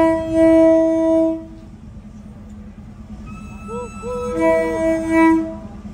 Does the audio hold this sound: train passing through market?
yes